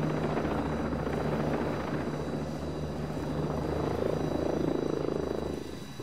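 A helicopter in the video game Ghost Recon Breakpoint flies overhead, its rotor and engine roar steady and loud throughout and swelling slightly near the end, with no talk over it.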